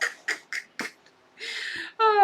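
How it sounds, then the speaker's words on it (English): A chicken makes a series of short squawks followed by longer sustained tonal calls, close and loud against quiet background. "if you've never heard a chicken sing the theme song from Titanic, you have missed out"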